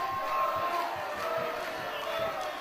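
Wrestling crowd at a tag team match noise steadily throughout, a dense continuous roar of chatter and cheering with no single standout moment.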